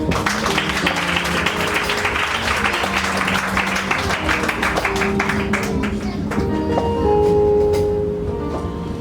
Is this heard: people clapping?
yes